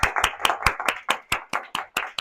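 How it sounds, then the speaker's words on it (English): Steady, evenly spaced hand claps, about ten crisp strikes in two seconds, close and fairly loud, from a small group at a Toastmasters club meeting, with no talking over them. "So I think that deserves a round of applause"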